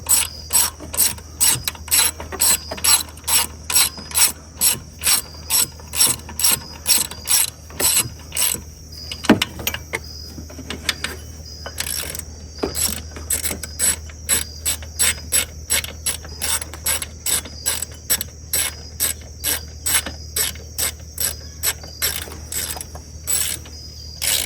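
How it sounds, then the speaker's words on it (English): A ratchet wrench clicks in steady rapid strokes as it tightens alternator bolts on an S10 Blazer, each pull a run of sharp pawl clicks, with a brief pause midway and a low steady hum beneath. "Once you get these 2 bolts tightened back down, proceed with the front bolts and re-snug them."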